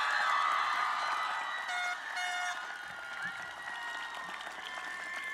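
Loud, steady applause fills a hall at a 2014 afternoon commencement ceremony, a broad continuous clapping from a large audience with some cheering mixed in.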